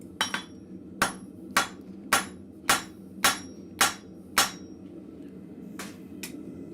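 A blacksmith hand-hammers metal on an anvil with eight sharp, ringing strikes at an even, steady pace. A short pause follows, then two more blows, close and loud, with no voices.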